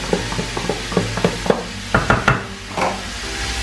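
Chopped leek sweats in a pan while being stirred, a soft sizzle under irregular scraping knocks of a utensil against the pan, close and moderately loud.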